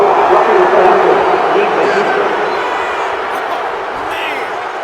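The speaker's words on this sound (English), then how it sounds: "Well, this crowd does not like that call." A stadium crowd in Madden 22, Patriots at Falcons, roars with a broad sustained wash of booing and noise after a personal foul penalty, loud at first and then easing slightly.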